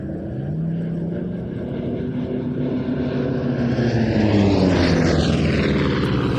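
A Corsair piston propeller aircraft flies at an airshow, a loud, continuous engine drone with a sweeping pitch shift as it passes overhead, while a commentator talks over the roar.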